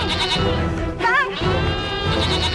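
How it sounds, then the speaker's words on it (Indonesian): Goats bleat loudly and repeatedly, overlapping wavering cries close by, one higher call rising briefly above the rest. "Tarno, kenapa dengan kambing-kambing kita, Kang?"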